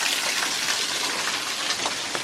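A small waterfall of about seven feet in Bankhead National Forest, Alabama, rushes as a steady, broadband splashing hiss with no voices over it.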